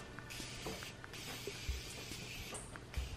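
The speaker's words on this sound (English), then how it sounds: "I'm going to use the Morphe Continuous Setting Spray and just set this in place" Morphe Continuous Setting Spray is misted onto a made-up face in a few short, soft hissing spritzes, quiet and close, with no talking.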